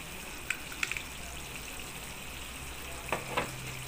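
Fish with taucu is stirred in hot oil in a pan, a faint steady sizzle broken by a few sharp utensil clicks and scrapes, no talk.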